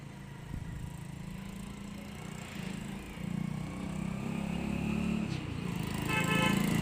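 A motorcycle towing a small trailer rides past at speed, its engine drone steady and growing louder toward the end, heard from nearby in the open.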